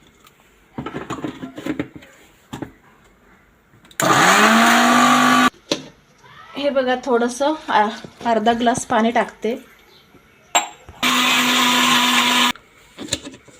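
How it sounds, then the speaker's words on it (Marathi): A kitchen mixer grinder whirs loudly in two separate bursts of a couple of seconds each, blending a pani puri paste of ginger and lemon with water, while someone talks between the runs. "आता मी मिक्सरला लावून घेते"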